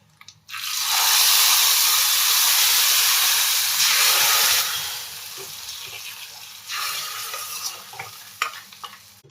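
Hot tempering with curry leaves and dried red chillies poured into a chutney, a loud sustained sizzle and hiss that fades and flares again, followed by scattered stirring clicks.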